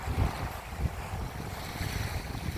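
Sea waves wash around a seaside home in a low, steady rumble of surf, with gusting wind buffeting the microphone and no voices.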